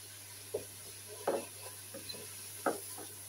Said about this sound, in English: Just to mix everything really well for 1 minute